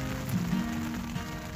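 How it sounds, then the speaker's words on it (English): Steady rain patters on a tent at a desert trail campsite, a constant close hiss with no voices. "and it's raining."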